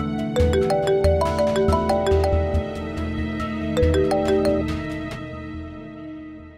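A bright electronic ringtone melody plays steadily and loud, its repeating tones continuing for several seconds with no one speaking.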